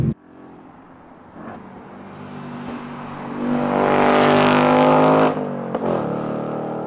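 A 2024 Ford Mustang GT V8 pulls hard under throttle, its close, loud engine note rising steadily through the revs, peaking, then easing off with a brief lift before pulling again.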